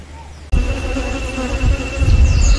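Bees buzz around beehives at an apiary in San Carlos, Costa Rica, a dense steady drone that kicks in abruptly and swells louder toward the end, with no talk over it.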